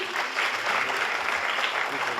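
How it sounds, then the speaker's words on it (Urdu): Brisk, dense applause from an audience at the inaugural session of the International Ghalib Seminar 2024, a short steady burst of many hands clapping together at close range. "بہت خوبصورت کیلنڈر، زوردار تالیاں آپ کی۔"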